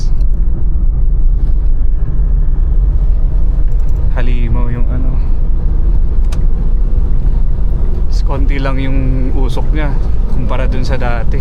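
A tuned manual Mitsubishi Montero Sport 4x4 with stage 2 tuning cruises in fourth gear, its steady, loud engine drone and road rumble filling the cabin while people talk over it.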